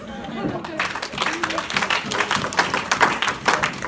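A church congregation applauding to acclaim the Lord during a sermon, a rhythmic patter of clapping hands under a speaking voice.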